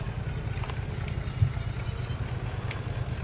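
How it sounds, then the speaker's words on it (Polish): A fast motorcycle in the farming game Farming Simulator 22 gives off a steady, low engine drone that holds at an even level throughout, with one brief louder bump midway. "widzę, powiem wam, że szybko ten motor jeździ"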